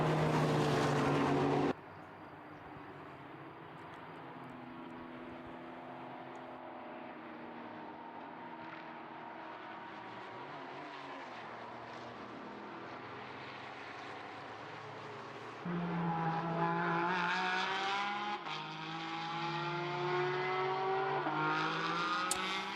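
A Porsche Cup race car with a flat-six engine, a 903 Cup car, racing at the Red Bull Ring, its engine droning steadily and then swelling louder as it nears and revs hard, with no talking.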